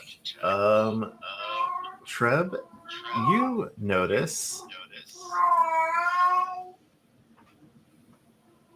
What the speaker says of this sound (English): I have a cat screaming in the background right now